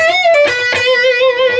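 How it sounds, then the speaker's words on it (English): An electric guitar plays a short pentatonic blues riff with a slightly distorted tone, a few picked notes and a sustained bending note ringing clearly with no voice. "It's just a pentatonic blues riff."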